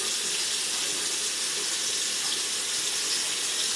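Running tap water pours steadily over collard greens being washed for Ethiopian gomen, a constant close hiss of flowing water with no talk.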